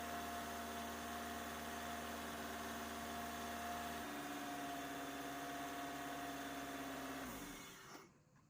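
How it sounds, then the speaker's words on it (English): A car engine idles after an oil change with a steady, even mechanical hum and whir. It shifts slightly in tone partway through, then winds down and fades near the end. "go and start the car up, let it run for a few minutes"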